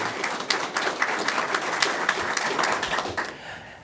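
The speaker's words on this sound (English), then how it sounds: "Let's have a big round of applause for Seth Glantz from Bessemer City High School." Audience at a career signing day ceremony in a high school setting applauds steadily, a dense wash of many hands clapping for several seconds before tapering off at the end.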